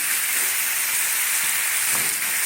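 Steady, loud sizzling of cooked bean pods being stirred and turned in a hot pan, a continuous crackling hiss with faint scraping underneath and no voices.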